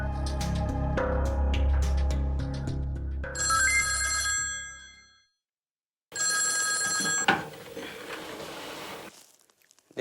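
An old telephone bell rings loudly in two long bursts separated by a brief silence, then stops as a quieter rustle follows.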